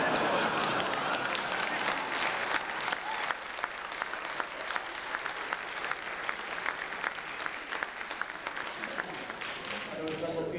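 An audience at a lecture applauds in a loud, continuous wash of clapping that lasts the whole stretch without pause.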